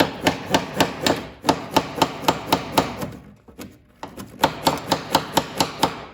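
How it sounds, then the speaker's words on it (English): A wooden picture frame is tapped down on a table in two series of evenly spaced, sharp knocks, with a short quiet gap between them, loud and close. "now I'm gonna tap it down"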